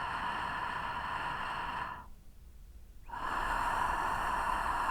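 Steady nasal breathing with a soft friction hiss during a guided meditation, each inhale and exhale sounding the same, close and continuous, broken by one brief quiet pause in the middle.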